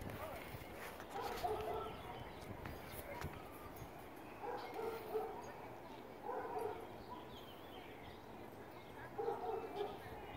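A neighbor's dog barks in repeated bursts from a property during a heated dispute, loud and fairly close, with people's voices talking over it.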